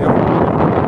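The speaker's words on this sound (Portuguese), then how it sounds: "Aqui tá ventando vento" Wind blows hard across a beach at Guarapari, a loud, steady rumbling buffet against the microphone with rustling texture throughout.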